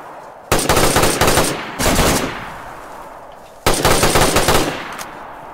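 Bursts of automatic gunfire from the video game DayZ come as three rapid strings of shots, each about a second long, loud and close, with echoing tails between them.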